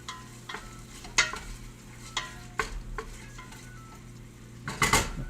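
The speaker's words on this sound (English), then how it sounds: "Let that meat simmer for a bit." Meat for soup cooks in a pot with a low sizzle, broken by a spoon clinking and scraping against the metal in a loose, irregular rhythm, close by.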